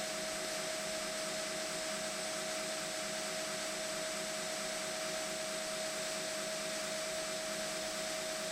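A belt grinder runs with a steady, loud whine and broadband hiss as a knife tang is ground on the platen, the tone constant throughout with no talking.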